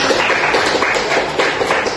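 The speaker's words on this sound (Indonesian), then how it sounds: "Beri tepuk tangan." Classroom students applaud a classmate's answer, a dense, close patter of many hands clapping steadily for a couple of seconds without talk.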